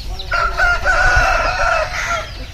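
A fighting rooster of the pandem kodi breed, black-feathered, clucks and crows close by at a village near Bhimavaram, a drawn-out call over a low rumbling background.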